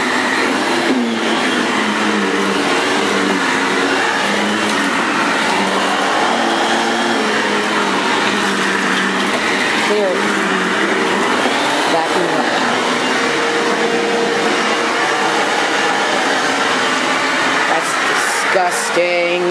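A Bissell upright vacuum cleaner runs close by with a loud, steady motor whine and airflow roar, its pitch wavering slightly as it moves, holding for about twenty seconds with no talk.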